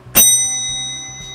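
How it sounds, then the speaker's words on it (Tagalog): A single bright strike of a bell for sale at a small business, ringing out loud and close, its clear metallic tone lingering and slowly fading. "Tumutunog na bell."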